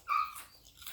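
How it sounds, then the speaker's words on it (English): A brief, high-pitched dog whine sounds faintly from outside on a back porch, thin and tonal, followed by softer whimpering noises in a quiet setting. "if y'all can hear my dog, it's because he's outside on the back porch."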